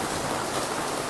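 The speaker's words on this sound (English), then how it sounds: "It's raining outside." Steady rain falling outside, a soft continuous hiss of drops with no other sounds over it.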